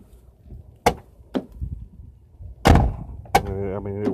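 A 1995-2001 Ford Explorer door being opened gives several sharp, close latch clunks and thumps, spaced irregularly, with a voice speaking briefly near the end.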